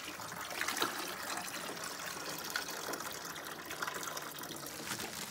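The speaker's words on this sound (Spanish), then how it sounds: "Déjeme abrir un orificio para que pueda salir el agua en ambas" Water gushes steadily through a drain hole out of a cooler, a continuous close splashing trickle with no talk and only small swells in loudness.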